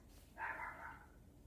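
A dog barks once, a muffled burst roughly half a second long, heard indoors at a moderate distance over a quiet background hum; no one speaks.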